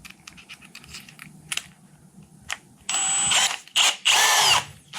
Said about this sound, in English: I don't know what's up with that drill bit. It is unhappy.